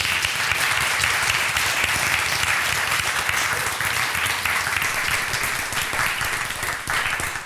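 Sustained audience applause after a talk about coding tools, a dense steady wash of many hands clapping at close to mid distance that keeps an even level throughout.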